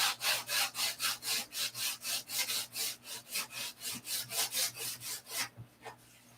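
Hand sanding of a wood surface, a steady run of about twenty rhythmic back-and-forth rasping strokes, close and fairly loud, with a faint low hum beneath, the strokes stopping near the end.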